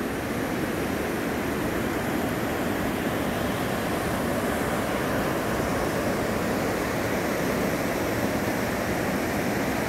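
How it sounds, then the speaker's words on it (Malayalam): A steady, dense roar of rushing water from Athirappilly waterfall and its river, constant and unbroken for the whole stretch with no voices. "വാട്ടർഫോൾസിൽ നിന്ന് വെള്ളം പിന്നെ താഴെ ചാടി മുകളിലേക്ക് പൊന്തുന്നത് കണ്ടോ"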